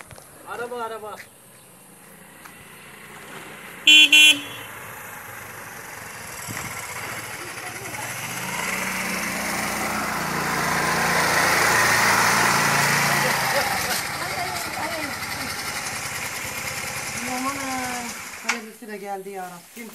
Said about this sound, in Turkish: Araba, araba.